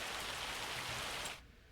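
Steady rainfall in the Farming Simulator 25 video game, a dense even hiss of drops on surfaces that fills the clip alone, then drops away sharply near the end.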